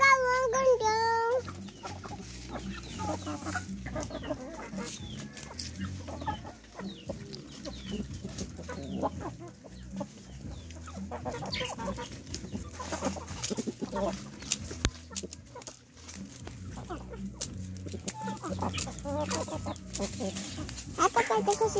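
Chickens and a big rooster cluck around a farmyard while being fed corn, steady busy clucking throughout with children and adults talking over it.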